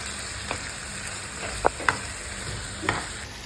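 Masala for fish gravy sautéing in a pan, a low steady sizzle with a few sharp scrapes and clicks of the spoon against the pan, close by and without talking.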